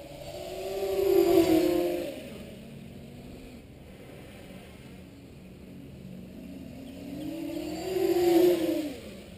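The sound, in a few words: tricopter motors at full throttle flying fast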